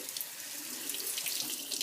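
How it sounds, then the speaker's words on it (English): Steady hiss of cool tap water running through a strainer of rinsing beans and rice into a sink, a continuous close splashing wash with no speech. "now we're going to rinse them until the water comes clear. Rinse them in cool water"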